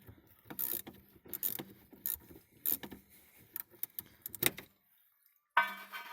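A wrench loosens a battery terminal nut on an Audi A6 C6 2.4 in a series of close, light metallic clicks and ratcheting taps, pausing near the end before a final sharp clank.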